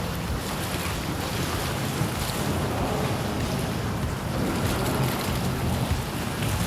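Strong wind blowing over water by a small bridge while fishing, a constant loud rushing roar with buffeting against the microphone and a faint wash of moving water beneath, no voices.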